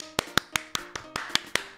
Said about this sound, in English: What else could be clapping?